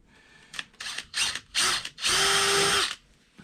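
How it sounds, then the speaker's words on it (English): A power drill whirs in several short bursts while drilling a pilot hole for a dowel in a campervan cupboard, then runs in one longer steady spin, close by and loud, stopping abruptly. "So do the pilot hole first,"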